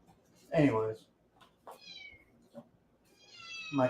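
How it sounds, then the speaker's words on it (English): A pet cat meows repeatedly for treats, a few drawn-out, insistent cries spaced across the moment, close by and moderately loud against a quiet indoor background. "my cat thinks that I'm getting it treats right now, so she's going to scream at me"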